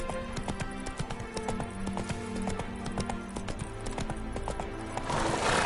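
Hooves clip-clop in a steady galloping rhythm from a horse in The Witcher video game, with a brief whinny and a rider's shout over the beat, all fairly loud and close.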